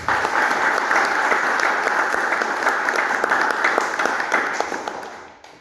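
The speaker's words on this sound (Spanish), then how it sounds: "Permítame, José Alberto, pedir a todos los presentes por este centenario un fuerte aplauso a la Pinacoteca." An audience at a municipal art gallery's centenary ceremony breaks into loud, sustained applause, dense clapping from many hands that holds steady before tapering off at the end.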